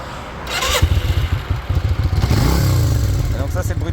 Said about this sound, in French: Voilà, donc on va la démarrer un coup.